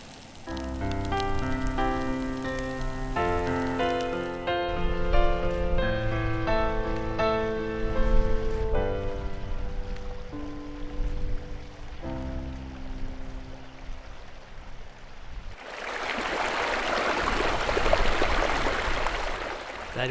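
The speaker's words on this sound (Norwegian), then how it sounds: "Der hvor bekken renner ved siden av teltet vårt" A stream flowing beside a tent on a July hike near Narvik, Norway, heard as a steady broadband rush of water during the final few seconds, after a long stretch of tonal music.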